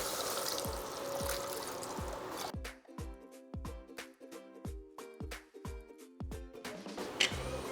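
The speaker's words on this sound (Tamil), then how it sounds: "நம்ம அதுக்கு வேகிறதுக்கு தேவையான தண்ணியை ஊற்றி குக்கரை மூடி வேக விட்டுறலாம்" Water is poured into a pressure cooker with fried lentils to cook them, a close trickle and splash, followed by a series of sharp clinks and taps.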